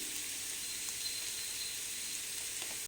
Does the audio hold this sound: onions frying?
yes